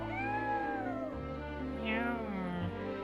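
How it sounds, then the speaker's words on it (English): A cat in the video game Triangle Strategy gives a couple of drawn-out, clear meows over soft background music, close and fairly quiet. "There's a cat."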